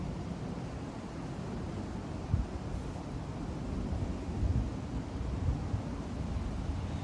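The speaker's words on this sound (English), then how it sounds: "Yeah, you can hear a plane right now." An airplane passing over a residential neighborhood gives a steady, broad low rumble that swells slightly and lasts throughout, heard at a distance with no talking.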